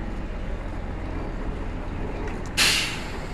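A sharp hiss of air brakes bursts out near the end from trucks hauling trailers at a border crossing, over a steady rumble of idling traffic.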